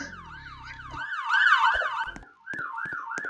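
A loud wailing ambulance siren in a video game rises and falls rapidly in repeated sweeps, broken by a few sharp thumps and clicks, with no talking.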